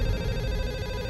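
A telephone rings indoors with a steady electronic tone over a low room background, short and clear, with no one speaking.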